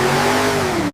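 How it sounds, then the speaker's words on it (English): A Ford Mustang GT V8 engine runs on a factory test stand, a loud, steady mid-pitched hum with clear harmonic tones that holds evenly, then cuts off abruptly at the end. "Every V8 engine faces rigorous testing."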